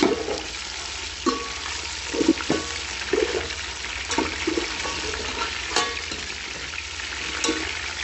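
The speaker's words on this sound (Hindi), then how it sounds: "अब हम इसमें चिकन डालेंगे। चिकन को 4 से 5 मिनट के लिए हम फ्राई करेंगे।" Chicken pieces frying in a pan with onions for a chicken pulao: a steady, close sizzle broken by irregular clinks and scrapes of stirring.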